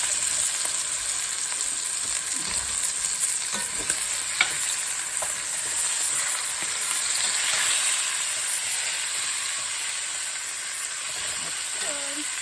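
Potatoes fry in a hot pan to form a crust while roasting pork is prepared, a loud, continuous sizzle and hiss, close and steady with occasional stirring scrapes.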